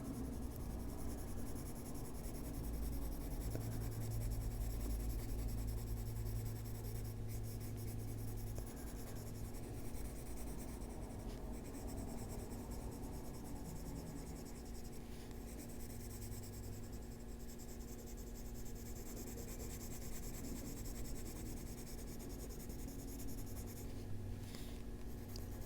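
A colored pencil rubs steadily back and forth across paper, a soft continuous scratching up close that carries on for the whole stretch.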